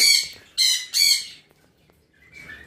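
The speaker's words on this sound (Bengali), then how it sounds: "এই যে আমাদের ব্ল্যাক ক্যাপ কনুর জোড়া" A pair of black-capped conures give three loud, harsh squawks in quick succession close by, then go quiet before a fainter chattering call.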